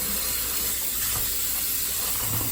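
Tap water runs steadily into a sink while chicken breast is rinsed, a constant close, fairly loud splashing rush with no talking.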